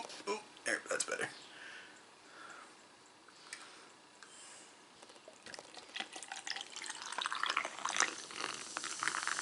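Mountain Dew Summer Freeze soda poured into a glass, a fizzy, splashing stream that builds and grows brighter toward the end, mixed with a person talking over parts of it.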